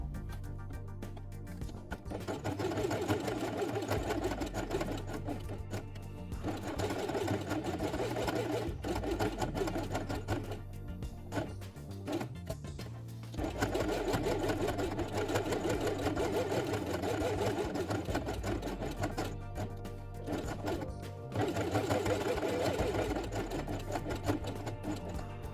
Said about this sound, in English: Then sew along the edge with pink thread.